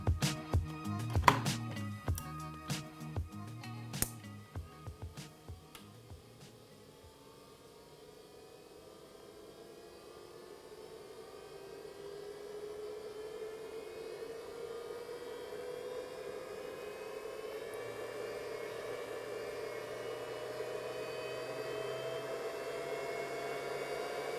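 A LiFePO4 battery charger switches on, and its cooling fan rises into a steady whirring hum that grows slightly over time and then holds constant, after a few brief clicks and knocks at the start.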